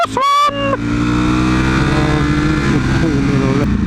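A motorcycle engine revs hard and surges as the rider accelerates through traffic, a loud steady drone with rising harmonics close to the microphone, and a brief voice at the start.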